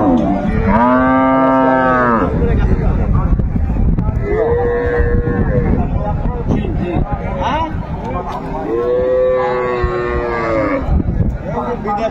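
Cows and calves at a busy livestock market in Dinajpur low out repeatedly, several long drawn moos rising over steady crowd chatter and market noise.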